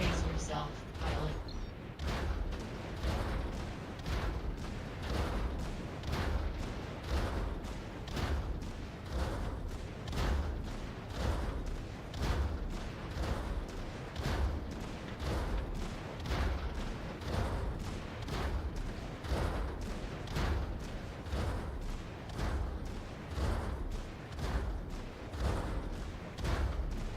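Sustained enemy gunfire pounds a mech in the game Vox Machinae, a dense, relentless barrage of rapid shots and booms that runs loud and unbroken throughout, with no pauses.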